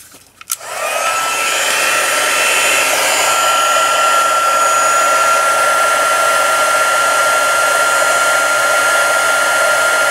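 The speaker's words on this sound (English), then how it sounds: "I'm going to turn the heat tool on." A heat tool switches on after a faint click and runs steadily and loudly for about ten seconds with a constant airy roar and a high whine, used on a vintage Squash swap card.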